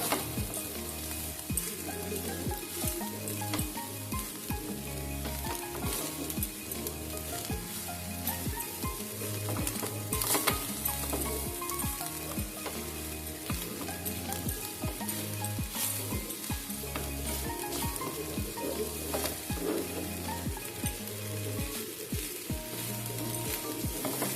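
Fried rice sizzles steadily in a hot pan while being stirred, with rhythmic scraping and tossing strokes repeating close up throughout, no voices.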